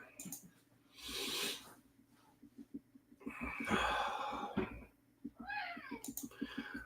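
A cat whines and meows in several drawn-out, wavering cries close by, separated by quiet gaps with soft breathing and faint rustling sounds.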